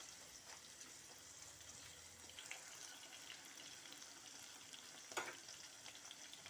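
Onions fry in a pan for a gonguura paneer curry, giving a steady soft sizzle with faint stirring and a few sharper crackles near the end, heard alone without talk.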